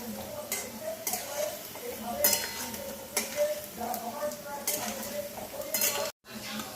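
Fried palm-fruit fritters (taler bora) being lifted out of a frying pan of hot oil, with repeated clinks and scrapes of a metal utensil against the pan over a soft sizzle, close and fairly loud.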